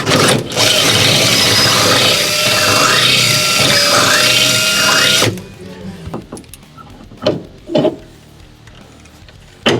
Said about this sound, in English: you got to go through and actually drill a hole through